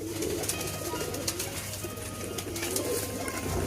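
A breeding pair of pigeons coos softly in a loft in Loni, Delhi, under a steady broadband background hiss. The low, intermittent calls are faint and no one speaks.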